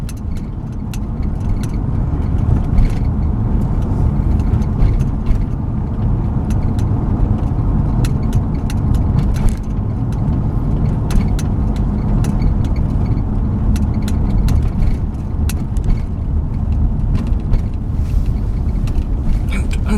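A 2011 Dodge Grand Caravan Express minivan drives along, its engine and road noise forming a steady loud rumble inside the cabin, with scattered creaks and rattles over the whole stretch.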